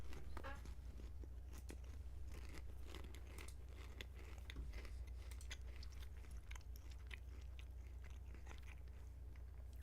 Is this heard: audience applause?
no